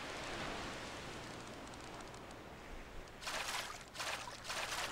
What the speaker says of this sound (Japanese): しかも夜の雨だよ